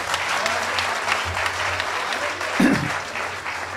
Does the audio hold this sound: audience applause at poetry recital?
yes